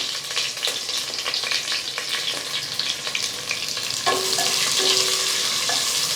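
Onions frying in a pot of oil for mutton biryani, a steady close sizzle with scattered crackles and occasional stirring scrapes that grow louder and denser toward the end.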